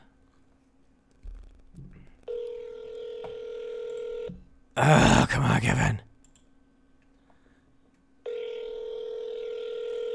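Telephone dialing on a scam-baiting call: a short burst of keypad tones, then a ringback tone rings twice with a gap between, while a man briefly complains over it.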